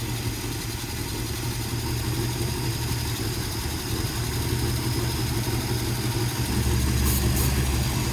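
A 1957 Chevy Bel Air engine idles steadily after its first start in over fifteen years, a close, continuous low rumble with an even throb throughout.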